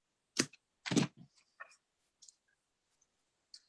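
Paper is trimmed for a handmade Christmas card with delicate bauble die-cut pieces: two quick crisp cuts close together, followed by small light clicks and rustles in an otherwise quiet space.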